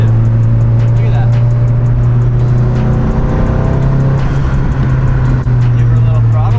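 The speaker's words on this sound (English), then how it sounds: "Give her a little throttle, she goes." A Nissan S14 with an SR engine on 7 pounds of boost idles with a strong steady drone, then a brief throttle blip swells the engine note mid-clip before it settles back, heard close up.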